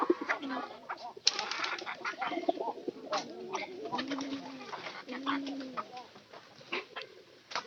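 Pigeons coo in a series of soft rolling calls, with a few wing flaps and scattered chicken clucks from nearby hens mixed in, moderately close and continuous.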